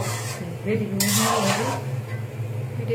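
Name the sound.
stirring vegetables in a pot held with a cloth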